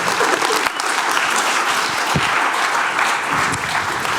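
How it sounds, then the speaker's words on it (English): Loud, dense audience applause fills the whole stretch, steady clapping from many hands without pause. "Please, a round of applause for Marc, Elisabeth."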